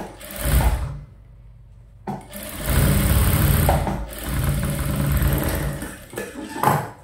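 An electric sewing machine stitches a princess-cut blouse in loud steady bursts, running about a second, pausing, then running continuously for several seconds before slowing and stopping.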